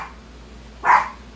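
A single short, loud dog bark rings out once in a quiet room, with a faint steady hum around it.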